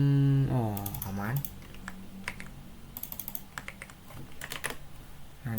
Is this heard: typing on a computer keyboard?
yes